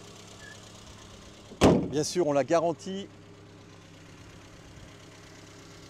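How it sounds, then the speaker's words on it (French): A 1972 Renault 12 Break estate car's engine idles with a steady low hum throughout, briefly covered by someone speaking French. "Voilà notre petit moteur qui tourne."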